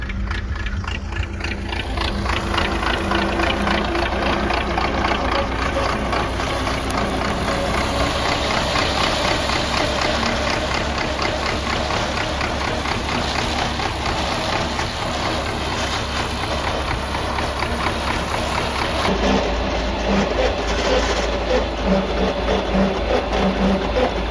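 A tractor engine, an MTZ-82 hitched to a rotary hay implement during alfalfa mowing, idles steadily and loudly, a constant mechanical rumble with rhythmic knocking that holds throughout without pause.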